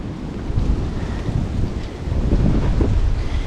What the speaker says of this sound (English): I'm going to have to watch that wind.